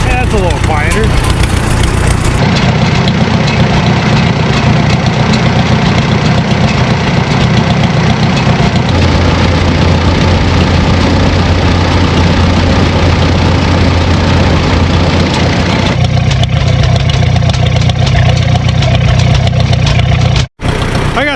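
A Farmall tractor engine idles steadily with its muffler fitted, a loud continuous chugging drone that shifts slightly in tone partway through. People talk over it.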